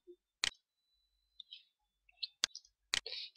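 Computer mouse clicks while working in Sony Vegas editing software: three sharp, isolated clicks spaced about a second apart, with faint small ticks between them in an otherwise quiet room.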